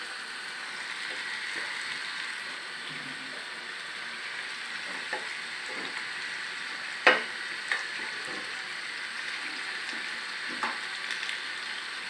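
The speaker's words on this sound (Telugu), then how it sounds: "ఇప్పుడు ఒక ముక్క అలా వరసన మసాలాలో వరసన పేర్చుకుంటూ వేయాలి" Fish pieces for a village-style fish curry are laid one by one into hot masala, giving a steady close sizzle throughout with a few sharp clicks and taps from placing the pieces.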